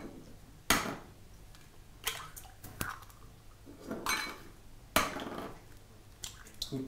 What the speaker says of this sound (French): tu casses les œufs entiers dans le bol du batteur